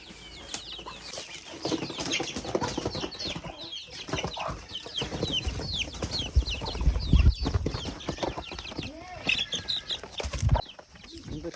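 Chickens cluck and squawk close by in a busy farmyard, with wing flaps and scattered noises, loud and continuous throughout.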